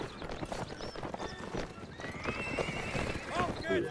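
Horse hooves clip-clop and a horse neighs repeatedly, close and loud, in the Napoleonic Wars game of Mount & Blade during a cavalry practice, with a voice talking over it and rising whinnies near the end.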